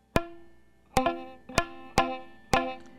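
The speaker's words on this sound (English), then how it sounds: "if for some reason you're getting like a clicking sound like this" Five short, dull guitar strums at a steady pace, each cut off quickly with a slightly clicky, muted attack instead of ringing cleanly.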